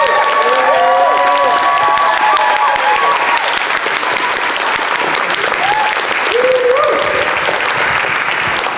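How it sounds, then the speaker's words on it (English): A crowd at an artists' and activists' gathering in Turner Contemporary, Margate, gives loud, sustained applause with cheering and a few high shouts mixed into the continuous wash of clapping. "Please give him a big round of applause."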